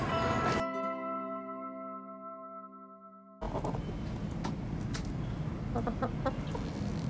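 Chickens cluck in short, scattered bursts close by over a constant noisy backdrop, after a few seconds of a sustained ringing tone.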